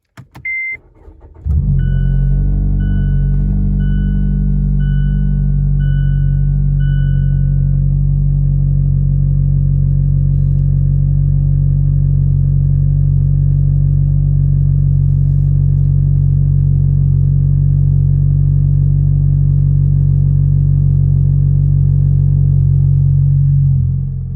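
A 2015 Mazda 6 with a custom straight-pipe single-exit exhaust, heard from inside the cabin: a chime and a starter crank, then a loud deep steady idle drone that holds for over twenty seconds.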